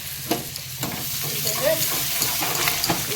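Garlic, ginger, dried chili and cumin fry in butter and oil, a steady close sizzle broken by quick stirring scrapes, with no talking over it.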